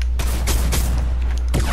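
Gunfire in the video game Fortnite, several loud, sharp shots spaced out over less than two seconds over a steady low background rumble.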